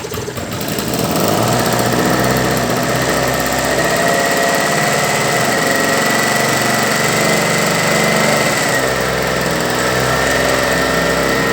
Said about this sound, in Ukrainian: будемо пробувати його запускати